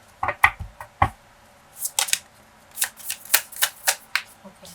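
Tarot cards being shuffled by hand, with a run of quick, crisp riffling bursts close to the listener and no talking.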